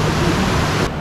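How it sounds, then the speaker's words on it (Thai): An unnamed waterfall in the forest gives off a loud, steady rushing roar of falling water that fills the whole moment without a break, heard from close by. "คือมันเป็นน้ำตกที่ยังไม่มีชื่อ"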